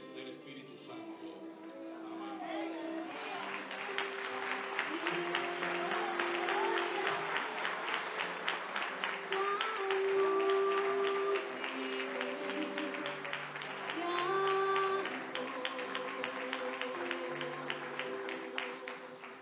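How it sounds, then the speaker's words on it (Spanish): Church congregation applauding during a Spanish-language service, sustained dense clapping over quiet background music and a voice, rising in a couple of stronger swells. "Dale fuerte el aplauso nuevamente"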